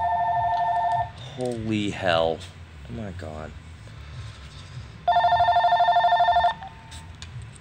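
An office telephone rings in a door-hardware repair shop in Clackamas, Oregon, with one loud electronic ring burst at the start and another a few seconds later. Someone talks in between.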